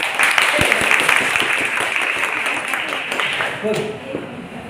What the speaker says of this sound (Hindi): ताली बजा ताली